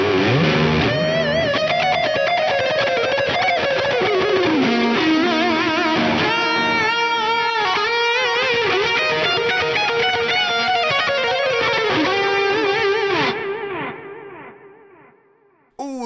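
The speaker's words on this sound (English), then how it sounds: "There's a lot of delay and reverb on there." Electric guitar soaked in heavy delay and reverb plays a dense, loud, overdriven passage with repeating echoed notes, then cuts off and decays into a fading wash.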